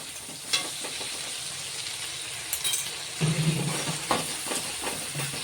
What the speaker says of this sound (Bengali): এবার এটা ভালো করে নেড়ে দিয়ে